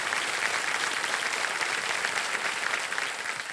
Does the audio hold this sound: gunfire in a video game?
no